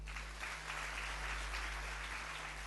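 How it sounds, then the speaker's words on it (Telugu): Congregation clapping together during a church service, a steady, even patter that stays fairly faint throughout, with a low electrical hum beneath it. "ఇప్పుడు కొట్టండి చప్పట్లు."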